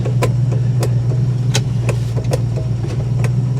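A 1973 Plymouth Scamp flood car, freshly revived, idles with a steady low engine hum, close up, while sharp clicks and ticks recur every half second or so over the drone.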